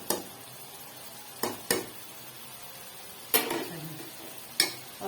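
Kofta masala stirred in a pan, with a steady low sizzle of frying and several sharp scrapes and knocks of a spoon against the pan at irregular intervals, close by.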